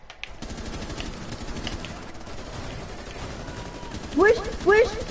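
Gunfire erupting on all sides in a Rainbow Six match, steady rapid bursts of shots rattling throughout, loud and continuous, with two sharper chirping tones near the end and a voice partly mixed in.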